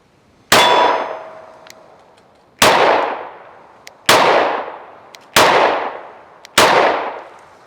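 Five pistol shots from a PSA Micro Dagger with a compensator strike a steel target outdoors, each a sharp, loud metallic clang ringing out and decaying over about a second, spaced evenly with no talk.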